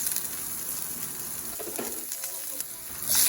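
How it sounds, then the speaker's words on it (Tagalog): Onions hit hot oil already browning with ginger in a frying pan for a sardine dish, giving a steady close sizzle and hiss throughout, with a faint stir near the end. "At pag nag-brown na po, ilagay na po natin ang sibuyas"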